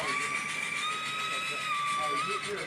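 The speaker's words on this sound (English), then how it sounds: "Listen to that horn." Model railway steam locomotive whistle from a Titfield Thunderbolt model on a Pacific Northwest layout, a steady sustained tonal blast holding for nearly three seconds over a faint hiss.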